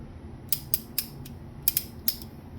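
Crisp, close ratchet clicks from a Capri Tools 3/8-inch mini torque wrench, seven quick irregular clicks in two short bursts over a faint background hum.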